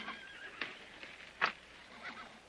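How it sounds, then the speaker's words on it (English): A horse in a Western film setting whinnies briefly a few times, with short bursts near the middle and a softer one toward the end, fairly faint against a quiet background. "Hey, CC, thanks for taking care of my horse and for the carriage."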